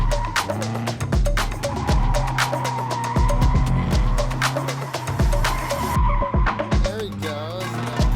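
A car spinning in donuts during a father's drifting attempt, with repeated tire squeals and skids over revving engine surges, several bursts in quick succession, close and loud, with voices talking underneath.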